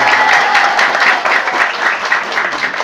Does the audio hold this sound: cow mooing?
no